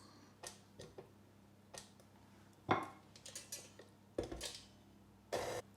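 Spelt carrot cake batter being mixed in a bowl, with a handful of separate clinks and scrapes of a utensil against the bowl spaced out with quiet gaps between them.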